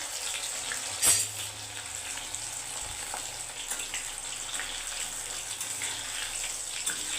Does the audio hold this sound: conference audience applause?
no